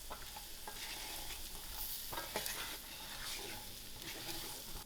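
Chickpeas being stirred and fried in a masala for a creamy chana curry, giving a steady close sizzle broken by scraping stirs and occasional soft clinks, with no talking.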